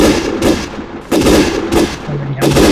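Rapid bursts of video-game gunfire during a shooting match, several loud broadband volleys in a row, separated by short lulls, with no talk over them.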